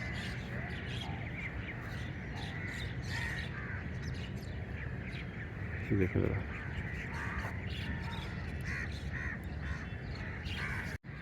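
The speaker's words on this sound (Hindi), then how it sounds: "और परिंदों की आवाज़ें सुनना ज़रा, कितना सुकून फील होगा आपको।" Crows caw repeatedly and other birds call among the trees at Kamran Ki Baradari in Lahore. The calls are fairly close and mixed with a steady outdoor background, and someone talks over them.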